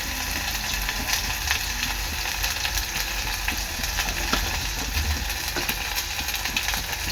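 Agri Koli spice masala cooks in hot oil in a pan, a steady close crackling sizzle with scattered pops and a faint stirring scrape, continuing evenly without talk.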